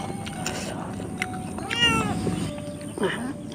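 A cat meows a couple of times indoors, short rising-falling cries over a low background of chatter and crunching sounds, with one clearer meow in the middle and a shorter one near the end.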